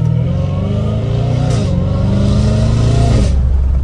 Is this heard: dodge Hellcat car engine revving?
yes